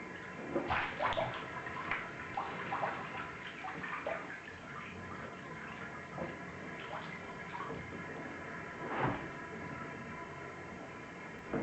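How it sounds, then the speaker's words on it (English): Water runs into a bathtub being filled with cold water to rinse raw Levi's 511 jeans, a steady rushing splash with small gurgles and drips, continuous and moderately close. "now we've got a bath full of cold water for a rinse"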